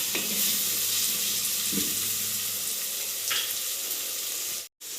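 Chopped onions frying in oil with coarse rock salt for a chicken masala biryani, giving a steady close sizzle throughout, with a couple of faint stirring scrapes and a brief drop near the end.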